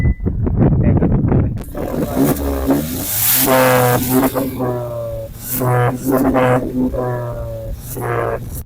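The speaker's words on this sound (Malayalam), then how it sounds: "നമുക്ക് എക്സോസ് നോട്ടൊന്ന് കേട്ട് നോക്കാം. ജസ്റ്റ് സ്റ്റാർട്ട് ചെയ്യാം." A Hyundai Venue N Line engine starts and revs repeatedly in sports mode, its exhaust note swelling and falling in several rising pulses, loud and close.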